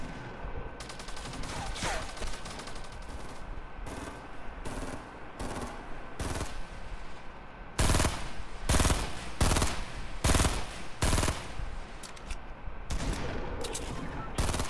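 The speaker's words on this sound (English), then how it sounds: "There's a lot of gunshots over there." Bursts of rapid gunfire in the video game Fortnite, some distant and some close and loud, with repeated sharp shots and automatic fire over a constant background.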